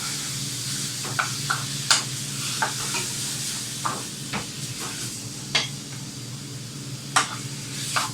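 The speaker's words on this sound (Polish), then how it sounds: "Mieszamy zamieszamy, żeby nam się to nie przypaliło." Spiced kebab meat frying in hot oil in a pan, with a steady close sizzle and repeated scraping, clacking stirring strokes at irregular intervals.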